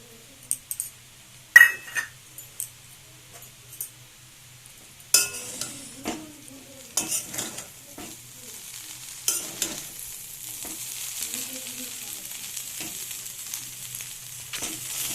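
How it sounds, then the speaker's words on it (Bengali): Chow mein with chicken and eggs is stirred in a pan, with scattered clattering scrapes of the utensil at first, then a steadier frying sizzle building underneath. "এগুলো নাড়াতে চাড়াতে একটু সময় লাগবে এখন।"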